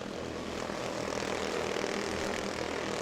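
Little two-stroke Mini Cup race car engines screaming around the track at Auburndale, a continuous buzzing drone of several cars at steady high revs, heard alone without talk.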